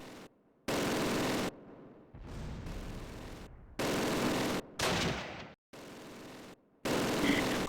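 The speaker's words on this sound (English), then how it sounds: "Receiving fire." Gunfire from the World War II strategy game Close Combat Wacht am Rhein, in repeated blocky bursts of dense rattling shots separated by short silent gaps, loud and steady.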